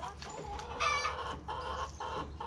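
Chickens cluck close by in short, busy bursts, several birds calling over one another against a soft outdoor background.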